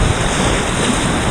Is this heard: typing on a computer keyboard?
no